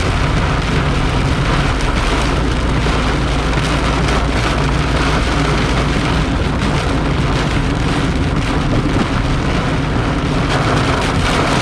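Heavy tropical storm rain pours down steadily and loudly on surfaces in Negril, Jamaica, a dense continuous wash of sound with no pauses.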